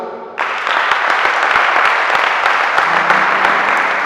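A church congregation bursts into applause during a sermon, a sudden loud wave of clapping that continues steadily and thickly to the end.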